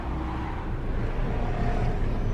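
City road traffic during lockdown makes a steady, broadband rumble of passing cars and engines, fairly close and unbroken, with no clear voices on top.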